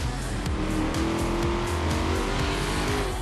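A racing car in the video game Forza Horizon 3 runs with a droning engine note and tyre squeal, a steady loud mechanical roar without a distinct impact.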